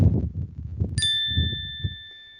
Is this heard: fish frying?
no